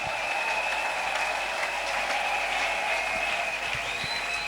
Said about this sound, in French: Acclamons makasi. pour Jésus